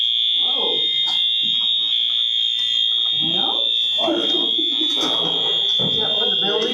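Building fire alarm sounding continuously, a loud, shrill, unbroken electronic tone that never lets up while several people talk over it in a meeting room.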